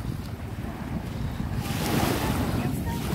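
Sea waves wash onto a pebbly shore, a steady surf roar mixed with wind noise on the microphone, swelling louder in the second half.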